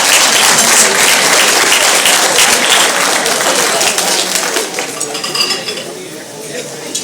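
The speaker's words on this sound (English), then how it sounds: "Let's give them all a round of applause." Sustained applause from diners at the Hamtramck Library annual dinner in 2014, a steady, loud wash of clapping that gradually thins out toward the end.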